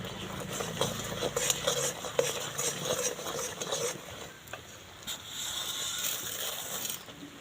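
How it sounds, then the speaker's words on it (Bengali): Fried flattened rice is stirred into melted jaggery in a pan, giving close scraping and rustling stir sounds with soft sizzling and occasional utensil clinks, louder at first and easing in the middle. "অল্প অল্প করে দেবো দিয়ে নাড়তে থাকবো"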